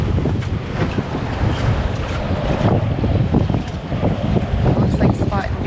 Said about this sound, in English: But that wind is so strong, it can blow you off of the docks.